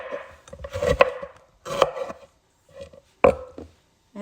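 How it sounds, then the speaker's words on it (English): A knife cutting a jalapeno into rings on a board, a few sharp close chops with short pauses between them, no talking. "And then the jalapeno, I just like to cut into rings."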